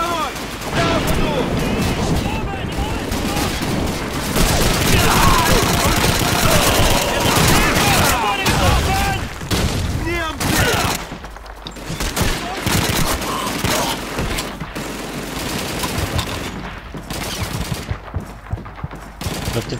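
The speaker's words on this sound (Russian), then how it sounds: "Тут пулемет!" Sustained machine gun fire and overlapping bursts fill a Call of Duty 2 battle, loud and nearly continuous, with shouted voices mixed in.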